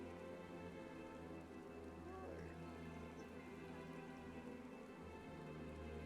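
Steady, soft rain patters continuously as ambient sound in the video game Final Fantasy XIV: Shadowbringers, an even wash of drops with no breaks and faint speech or music underneath.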